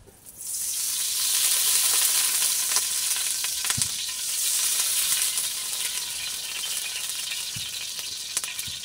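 Cooking oil sizzling in a pan for a Filipino adobong kangkong dish in a rural kitchen, a loud close steady frying hiss with faint stirring clicks, no talking.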